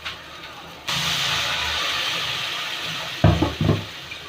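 Water splashes into a bitter gourd masala frying in a pan and sets off a sudden, loud, steady hiss of steam and sizzling up close, followed by a few short bursts of stirring or scraping near the end.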